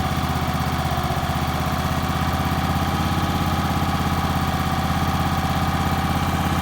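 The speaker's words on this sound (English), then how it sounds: "As it warms up, you can turn this for it to idle down." A portable generator's small engine warms up and settles into a steady idle, a loud, continuous close-up drone with an even low throb and no break throughout.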